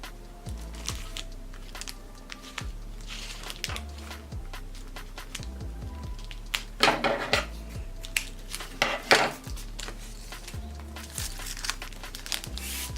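Paper mail packaging being handled and unwrapped gives steady crinkling and rustling with scattered light taps and clicks, close and continuous, with no talking.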